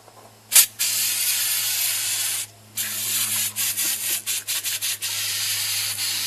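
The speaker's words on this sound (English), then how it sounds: "I will spray this on every square inch of this engine bay" Foam engine degreaser hisses from an aerosol can onto an engine bay in long and short bursts, loud and close, with brief pauses between sprays and no talk.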